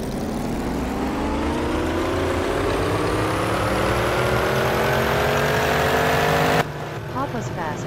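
Pack of 1920s Grand Prix racing cars in a video game roaring off the start at Deutschlandring, dense overlapping engines rising in pitch together for several seconds before cutting abruptly to quieter engine noise.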